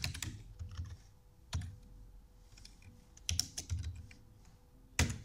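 Computer keyboard typing while entering JavaScript code, heard as several short bursts of close keystrokes separated by brief pauses, with no talking.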